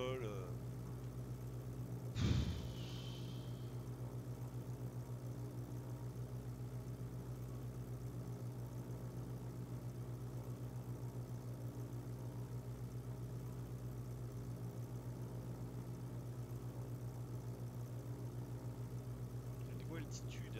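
A Morane aircraft engine holds constant power in level flight between Dakhla and Nouadhibou, a steady, loud, even drone that runs unbroken throughout, with one brief sharp click early on.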